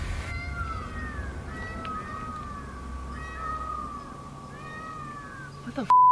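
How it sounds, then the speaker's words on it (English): A long, drawn-out mountain lion wail rises and falls, an eerie yowl repeated over a low background hum, ending with an abrupt click. "Yeah, that's a mountain lion."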